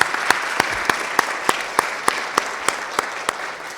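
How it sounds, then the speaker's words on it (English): At a Baltimore Symphony Orchestra summer concert, an audience applauds the Governor and First Lady with a steady wash of clapping, punctuated by sharp, evenly spaced rhythmic claps close by. "Please give them another big round of applause."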